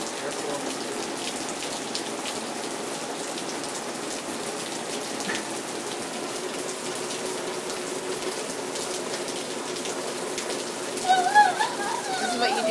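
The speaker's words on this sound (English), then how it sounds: "This is what you do in a Florida rainstorm." A Florida rainstorm pours down in a steady, dense hiss of falling rain, continuous throughout, with a brief burst of louder sound near the end.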